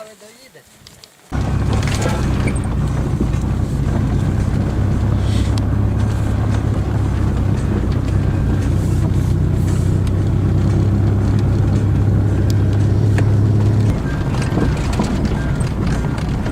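A car rolling along an overgrown rural road, its engine a loud, steady low rumble close by, with road and wind noise that runs continuously after a quieter opening moment.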